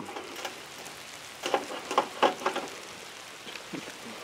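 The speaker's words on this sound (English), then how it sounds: "You guys can tell it's raining." Steady rain patters outdoors, a soft continuous hiss with a few louder splashes and rustles in the middle.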